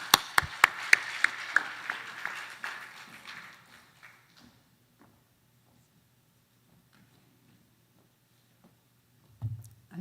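A handful of sharp claps ring out at a Friday prayer meeting as a speaker is welcomed, quick and scattered at first, then fading into near silence after a few seconds.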